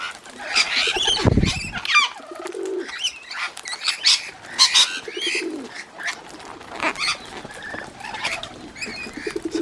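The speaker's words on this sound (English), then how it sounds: "That pigeon is annoying." A pigeon coos repeatedly close by amid busy chirping from other birds, with a loud burst of wing or rustling noise early on in an outdoor setting.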